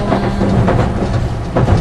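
A metro subway train runs with a loud, steady rumble and rattle, with a continuous low roar and faint rhythmic clatter throughout.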